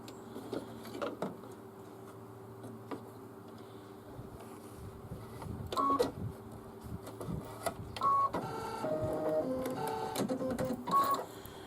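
An embroidery machine stitching out hot pink lettering, a steady buzzing whir with rhythmic needle clatter and occasional higher beeps and mechanical shifts, close and continuous throughout.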